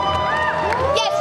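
Convention crowd at Comic Con Liverpool 2019 cheering and whooping for a cosplayer dressed as Bridget from Overwatch, a dense burst of voices close by with a person talking over it.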